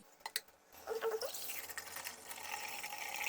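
Water poured into a bowl of freshly churned butter with salt to wash it, starting with a few small splashes and then a steady, close gushing pour.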